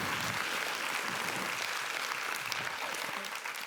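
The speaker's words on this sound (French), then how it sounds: "On peut l'applaudir encore" A congress audience in a hall applauds steadily, a dense even wash of clapping from many hands at moderate distance, holding for a few seconds and then beginning to thin.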